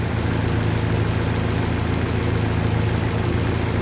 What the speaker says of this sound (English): Let me see if the EVAP purge valve is working. Yeah, it's working right now.